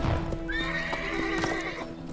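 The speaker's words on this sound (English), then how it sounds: "That horse has just left the chat." A horse whinnies in a rising, wavering neigh over busy background sound, with light hoof clip-clops and a few knocks mixed in, all fairly faint and brief.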